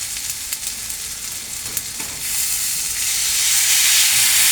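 Water poured into a pan of tomato and spice masala brings a loud, close sizzle, which swells into a steady, broad hissing roar as the liquid hits the hot oil, with faint stirring at the start.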